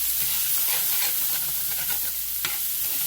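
Peppers, onions and garlic fry with beef in a hot pan, giving a loud, close, continuous sizzle broken by scraping stirring strokes and a sharp clack near the end.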